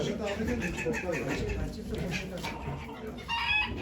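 Chickens and a rooster for sale at a poultry auction in Ankara cluck and squawk close by, mixed into steady, busy talk from the auction crowd throughout.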